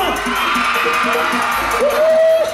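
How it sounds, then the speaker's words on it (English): A crowd of women yells and screams over a pulsing beat, a dense wash of voices with one higher voice rising near the end. "All the ladies, could you scream?"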